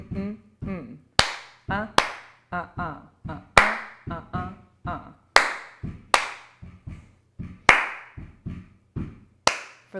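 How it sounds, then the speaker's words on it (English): Sharp claps and stomps beat out a swing dance rhythm for Lindy Hop, close and dry, in an evenly spaced repeating pattern with brief gaps between hits. "Let's clap it and stomp it out."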